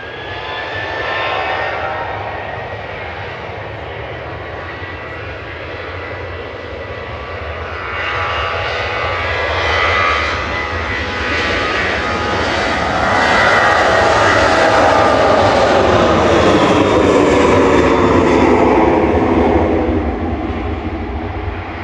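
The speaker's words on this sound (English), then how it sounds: "Ryanair to Alicante with flight 4076. It's EVB, a 737-800 operating this flight today." A Ryanair Boeing 737-800 departs Manchester Airport for Alicante, its jet engine roar loud and building as it passes, heard alone with no talk.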